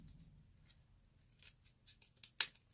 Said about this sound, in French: On plie en deux et on vient couper directement comme ça.